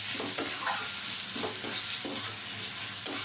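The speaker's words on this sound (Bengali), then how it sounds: "এবার ভালো করে মশলাটা ভেজে নেব।" Spice paste with turmeric and salt is stir-fried in hot oil in a pan for a fish-head and ash gourd curry. A steady close sizzle runs under repeated scraping strokes of a stirring spoon.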